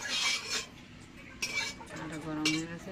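A metal spoon scrapes and clinks against a kadai while oil is stirred, a soft irregular scraping with a few light clinks, fairly close and quiet.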